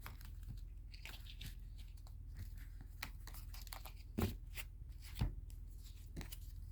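Tarot and oracle cards are shuffled in a quiet room, giving soft papery riffles and flicks with a few sharper slaps standing out near the end.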